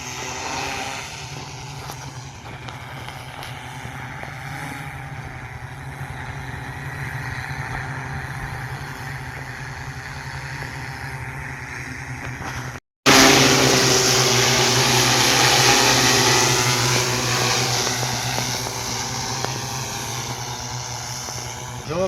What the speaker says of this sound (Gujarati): આપણે ડ્રોનથી સરસ મજાની દવા છટાઈ રહી છે